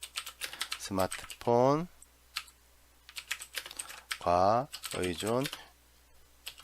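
Computer keyboard typing while text is entered into a chart title in a spreadsheet, bursts of clicky keystrokes alternating with a man's spoken instructions, fairly close and moderate in level.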